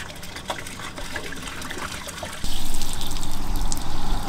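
Camper van toilet waste being poured into a disposal point, a steady liquid gush that grows louder and heavier about halfway through, close by with no talk.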